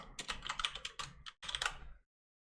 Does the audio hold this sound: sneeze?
no